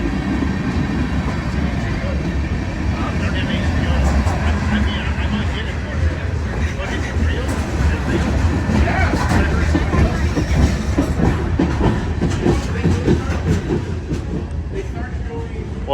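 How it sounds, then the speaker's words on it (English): A freight or passenger train rumbles past at a Galesburg railroad festival, a continuous heavy roar with rhythmic wheel clatter lasting the whole stretch, while people talk and a crowd murmurs underneath. "Train on that track."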